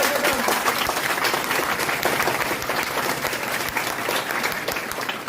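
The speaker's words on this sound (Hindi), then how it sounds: "चलिए एक बार सभी प्रतिभागियों के लिए जोरदार ताली बंदी है।" Loud, steady applause from an audience at a classroom awards event honouring all participants of an English-speaking course, sustained clapping throughout with a faint crowd murmur.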